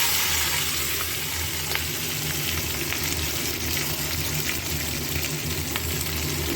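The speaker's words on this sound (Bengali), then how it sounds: "এই তেলের মধ্যেই দিয়ে দেবো ক্যাপসিকাম আর পেঁয়াজ কাটা" Chopped capsicum and onion sizzle steadily in hot oil in a pan, a continuous close frying hiss with no talk.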